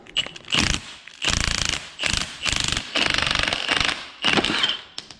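A socket wrench with a 13/16 socket spins a nut on a coilover for a Mercedes C63, in six loud, close bursts of rapid mechanical rattling separated by short pauses.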